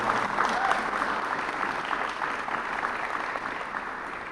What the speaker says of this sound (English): Yeah, give them another round of applause, please.